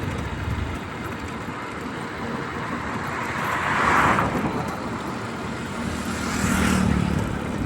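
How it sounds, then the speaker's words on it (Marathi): A car drives along a dark village road at night, its engine and tyre noise swelling as it passes, with a second vehicle approaching near the end over a steady background hum. "पुन्हा आता गाडी आली आहे."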